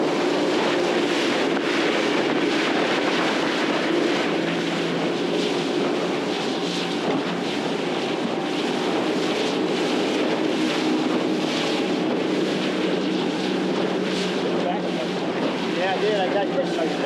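Wind buffets a sailboat out on the bay in a constant loud rush that roars across the microphone throughout, with muffled voices underneath.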